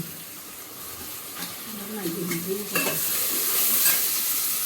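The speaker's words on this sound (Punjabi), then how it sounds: "ਪਹਿਲਾਂ ਪਾ ਲਈਏ ਜੀਰਾ" Cumin seeds frying in a pan while a tadka is prepared for a nutri (soya chunk) curry, giving a soft, steady sizzle with light stirring scrapes, close and moderate in level.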